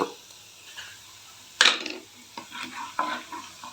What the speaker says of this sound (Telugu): కొంచెం ఇట్లా వేగింది కదా ఇప్పుడు ఇందులోకి జీలకర్ర